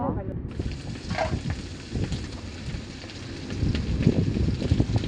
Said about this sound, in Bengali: এবার কড়ার মধ্যে দিচ্ছি শুকনো লঙ্কা